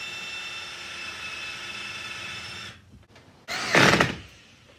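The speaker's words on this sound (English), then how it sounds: "Here, I'm drilling a countersink hole to attach the 4x4 post." A steady high-pitched whine of a power drill boring a countersink hole in wood runs for a few seconds, stops, then a short loud burst of drilling follows.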